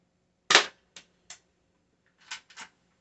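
A cheap UKARMS P618SB spring airsoft pistol fires a BB outdoors: one sharp snap, then a few fainter clicks and a pair of quick pops, each short and isolated in silence.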